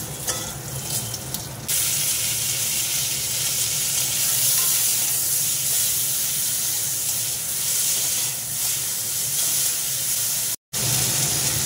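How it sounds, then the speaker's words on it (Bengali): Cumin seeds and potato pieces tossed into hot oil give a loud, continuous sizzle close by, a steady hiss that fills the whole stretch with a brief dropout near the end. "এই গরম তেলেতে দিয়ে দিলাম জিরে, গরম জিরেটা দিয়ে দিলাম, একটু আলু"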